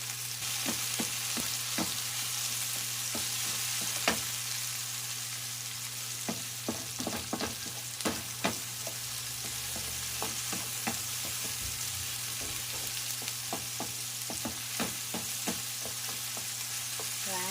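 Tomatoes fry in a pan with a steady sizzle, broken by frequent close clicks and taps of stirring.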